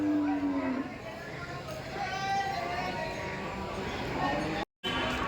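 Cattle at the Dhule bull market, a low moo heard early over busy outdoor crowd noise with voices talking throughout, moderately distant.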